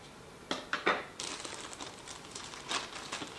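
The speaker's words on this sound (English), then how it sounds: "So that is the plastic bag." Plastic packaging holding a small mystery vehicle toy figure crinkles in close, sharp rustling bursts, first a few quick crackles and then a longer, softer scrunching, with no one talking.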